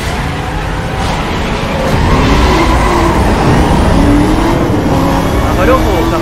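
A 1969 Dodge Charger R/T engine revving in a retro racing game, a loud, sustained roar that climbs in pitch partway through and holds, with tyre noise beneath it.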